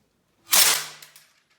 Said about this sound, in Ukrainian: Беремо за задню частину, що висовується, і різким рухом відкриваємо одразу до кінця.